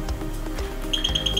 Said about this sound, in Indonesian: Buzzer juga berbunyi saat sensor terkena cahaya infrared dari remote control